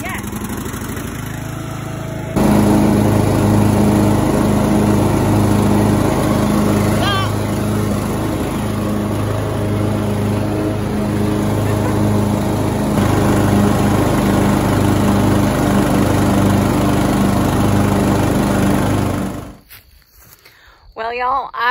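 Lawn mower engine running steadily after being cranked, a loud continuous drone with a low rumble that holds for about seventeen seconds before cutting off, with a voice briefly heard over it.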